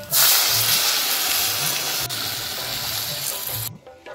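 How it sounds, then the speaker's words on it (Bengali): Water hits a hot pan of fried cumin, chilli, ginger and garlic pastes, a loud broad hiss and sizzle that fades slightly before cutting off near the end, with faint stirring beneath. "এখন দিয়ে দিব জল"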